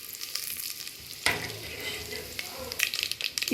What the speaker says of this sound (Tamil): இதில் இந்த கடுகு, ஜீரகம், மிளகு இதெல்லாம் சேர்த்துட்டு அந்த கடுகு பொரியிற வரைக்கும் நம்ம வெயிட் பண்ணலாம்.